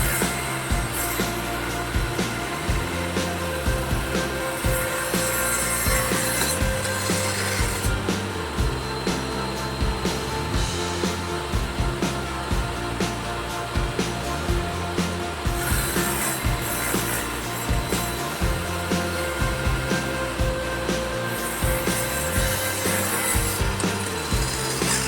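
Table saw ripping wood runners for a dowel maker jig, a steady whining blade with repeated rhythmic cutting passes and intermittent changes in pitch as the wood feeds through, close and loud.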